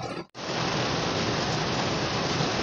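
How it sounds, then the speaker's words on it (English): Light drizzling rain falls outdoors as a steady, close, broadband hiss that begins after a brief gap and continues evenly. No one speaks. "It's only been slightly drizzling until I turned on the camera to start recording."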